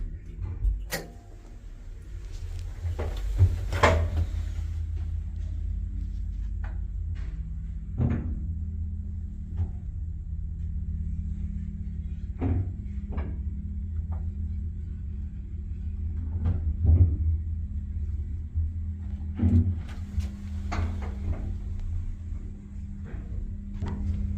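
A 1963 Hitachi black-button elevator in Kabukicho, Tokyo, rides with a low, steady mechanical rumble. Sharp relay clicks and clunks break in at irregular intervals, heard close and moderately quiet.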